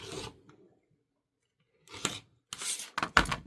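Scissors trim fabric on a quilt hourglass block, a few short crisp snips and rustles after a brief silence, close and quiet.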